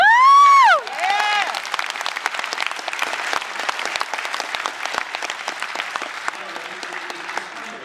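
Convention panel audience at Wizard World Austin bursts into loud sustained applause and cheering after a whoop, a dense crowd of clapping hands that holds steady and slowly thins.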